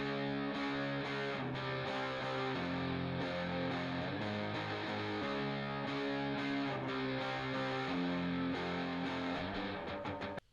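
Layered guitar parts, one modeled on an online tutorial, run through a small effects unit for a cover song; a dense, distorted, sustained wash of chords plays steadily and loudly throughout with no talking.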